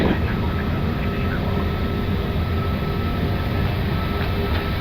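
Airbus A330 engines spool up to takeoff thrust on a Fiji Airways flight to Melbourne, heard from the cockpit as a steady, loud, continuous roar with a dense low rumble throughout.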